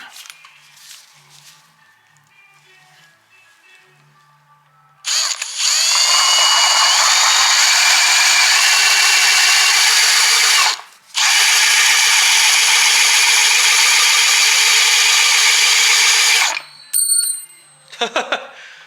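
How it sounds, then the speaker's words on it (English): A Dremel rotary tool cuts into a wooden car dashboard with a loud, high-pitched whine. It runs in two long sustained bursts with a brief pause between them, after a quieter stretch at the start. "I think the Dremel's going to be our friend on this one here"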